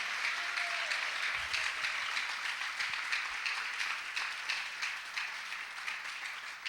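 A church congregation applauds steadily, a dense wash of clapping that holds at an even level from start to finish with no talk over it.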